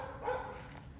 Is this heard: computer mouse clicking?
no